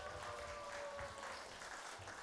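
Brief, steady applause from a church congregation at a conference, even clapping of moderate loudness filling the short moment without pause.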